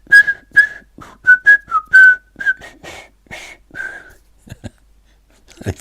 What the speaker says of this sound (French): les sifflements.